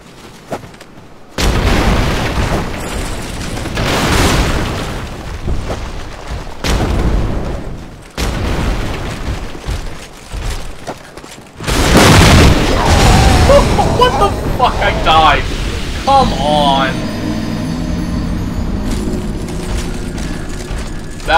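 Explosions hit characters in the video game Dark Souls 2. Loud booming blasts and heavy impacts recur with brief gaps of silence, followed by a long rumbling tail with mechanical, ringing game effects.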